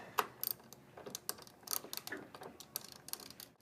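Ratcheting wrench loosening a running board mount bolt under a vehicle, giving quick, close clicking bursts with short pauses between them.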